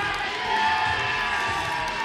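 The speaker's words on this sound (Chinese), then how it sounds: "现场的观众，你们觉得满意的话，就用掌声跟欢呼声来告诉我们" A studio audience at a Chinese game show cheers and applauds steadily, a sustained roar of clapping and voices with no pause.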